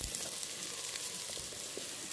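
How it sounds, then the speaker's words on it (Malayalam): Small shallots sautéing in hot oil in a home kitchen, a steady soft sizzle and crackle with faint stirring, continuous and close. "ചെറിയുള്ളി ഒരു 2 മിനിറ്റ് കിടന്നിട്ട് ഈ എണ്ണയിൽ കിടന്നിട്ടൊന്ന് വഴറ്റണം."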